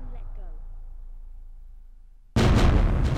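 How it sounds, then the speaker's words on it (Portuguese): Tomb Raider 1 explosion in the game, fueled by Greek fire, erupting as a sudden loud broadband blast that cuts in after a quiet stretch and keeps roaring at full force to the end. "Vamos ver como é que tá essa explosão"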